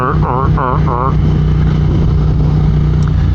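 A Triumph Speed Twin motorcycle rides in second gear, its engine droning steadily and loudly from close by, opened by a brief voice imitating the engine's rising revs.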